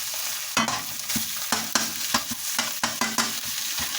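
Eggs and bacon stirred together in a hot frying pan: a steady sizzle under repeated scraping strokes of a utensil, about a dozen sharp close scrapes in irregular rhythm, with no talking.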